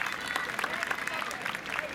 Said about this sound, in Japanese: さあこの8チームにどうぞ大きな拍手を送ってあげてください。